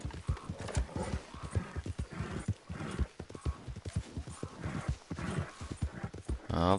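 Horse in the Red Dead Online video game, hooves clip-clopping in a quick galloping rhythm with a whinny near the end, heard under someone talking.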